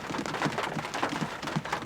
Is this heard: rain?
yes